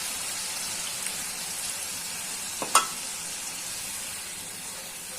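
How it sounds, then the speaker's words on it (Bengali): Mustard paste loosened with a splash of water sautés in oil for Bengali mustard hilsa, giving a steady soft sizzle with a brief louder pop near the middle. "সরিষাটা দেওয়ার পরে হালকা জল দিয়ে দিচ্ছি, সবটা মিলিয়ে কষিয়ে নেব"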